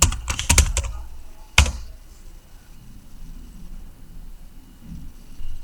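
Quick burst of computer-keyboard typing as a web address is entered, a dense cluster of key clicks followed by one sharper tap, then quiet room tone; close and clear with no talking.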